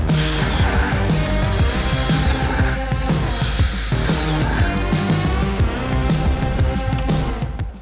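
DeWALT cordless bandsaw running on a PowerStack battery, a loud, close, continuous motor whine with blade cutting noise and pitch shifts as it bites into the work, with no talking.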